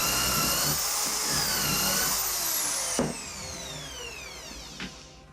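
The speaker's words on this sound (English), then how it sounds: "Put a depth stop in place and drill the holes." A power drill whines at high pitch, boring holes through a jig into plywood with a depth stop fitted; the motor runs steadily, pitch shifting as the bit cuts, with a couple of sharp knocks.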